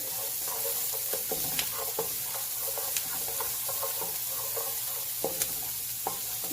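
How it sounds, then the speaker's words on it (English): Onions sauté in a pot for Trinidad corn soup while a spoon stirs them, with soft scrapes and light knocks over a constant low sizzle, close and fairly quiet, with no voices. "Just stir until the onions are translucent."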